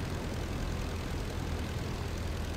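Steady drone of an Albatros D.V biplane engine in Rise of Flight, a constant broadband roar with no breaks, with the throttle cut back on approach to landing.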